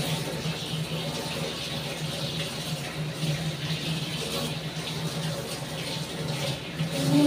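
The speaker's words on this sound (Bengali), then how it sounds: "এবার মাছটা আমি ধুয়ে নিই।" Tap water running steadily while prawns are washed at a kitchen sink, a continuous close rushing splash with no break.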